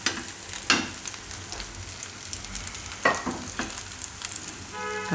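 Batter for a Maggi pudla fries in oil on a pan, giving a close, steady sizzle with a few sharp scraping and stirring clatters, and no voices over it.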